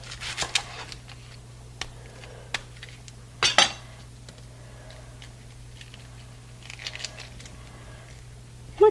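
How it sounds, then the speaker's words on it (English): An onion is chopped into chunks with a knife, heard as scattered sharp clicks and taps on a cutting board with one louder strike midway, set against a steady low hum. "So I'm just going to cut it nice chunks"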